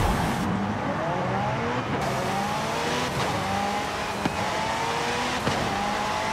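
A McLaren race car in Forza Horizon 5 pulls away at the start of a race, its engine droning loudly and steadily with rising and falling revs and whooshes from nearby cars.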